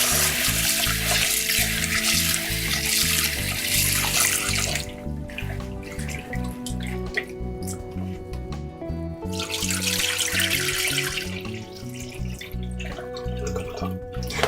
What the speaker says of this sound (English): So we wash our rice and then we add it.